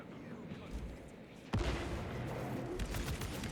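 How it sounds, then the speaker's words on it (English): A frag grenade in Space Marine 2 detonates with a sudden loud blast halfway through. Sustained heavy gunfire and rumbling follow, with a voice briefly heard amid the combat. "Unleashing frag grenade."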